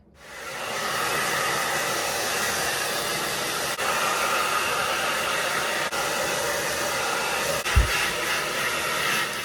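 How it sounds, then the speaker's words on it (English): A T3 hair dryer blow-drying thick, damp hair: a loud, steady whooshing roar that holds constant throughout, alone with no voices. "I am taking my T3 dryer and I'm just going to blow dry my hair"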